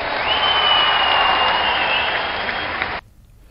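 Audience applause at a political rally in Madhya Pradesh, a dense, steady wash of clapping with crowd noise that holds loud for about three seconds and then cuts off abruptly.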